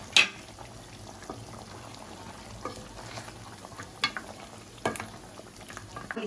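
Chicken curry stirred in a pot after coriander leaves and ground cardamom go in, a soft bubbling simmer broken by several sharp spoon scrapes and knocks against the pan, close and without speech.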